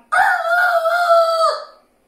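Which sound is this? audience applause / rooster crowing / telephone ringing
rooster crowing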